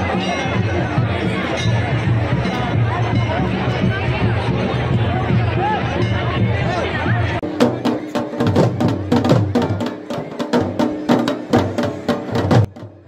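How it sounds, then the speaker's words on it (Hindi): A large, dense crowd at the Jakh Raja fair, with continuous loud chatter and babble throughout, followed by sharp rhythmic percussive hits rising over the crowd noise in the second half. "जहां पर बहुत बड़ी संख्या में मेले में लोग आए हुए हैं और काफी बड़ी भीड़ लगी हुई है"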